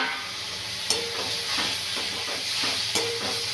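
A spatula stirs methi bhaji with chana dal in a pan, scraping in short repeated strokes over a steady, loud sizzle and hiss of frying, with two sharper clinks against the pan.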